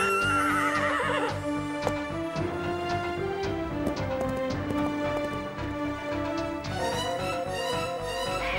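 A horse whinnies loudly with a rising, shaky call in an animated series, set against a busy orchestral music bed that continues throughout.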